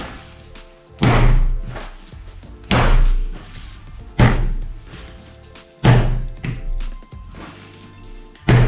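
Sticky, slack sourdough bread dough is slapped onto a counter and folded over, making five heavy, wet thwacks at roughly even intervals, each followed by softer handling noise.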